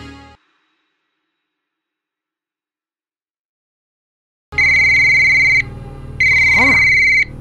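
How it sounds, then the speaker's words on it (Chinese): A phone ringtone in a Chinese drama scene: after near silence, an electronic tone rings loudly in two long bursts with a brief gap, a swooping tone rising within the second burst. "老二，怎么这么晚打电话？"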